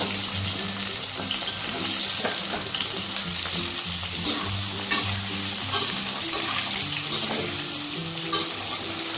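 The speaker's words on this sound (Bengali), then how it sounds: "একটু ভেজে নিব, নাড়াচাড়া করে" Raw green banana sizzles loudly in hot oil with green chillies in a pan, steadily frying while a utensil stirs and scrapes at intervals.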